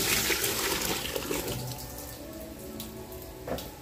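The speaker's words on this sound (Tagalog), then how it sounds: "ilagay na natin ang ating langka kasabay ng tubig" Water pours into a cooking pot holding jackfruit and pork for Ilonggo-style nilagang baboy, a close splashing rush that is strongest at the start and eases off, with a small splash near the end.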